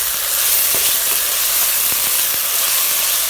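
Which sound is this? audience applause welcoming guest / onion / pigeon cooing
onion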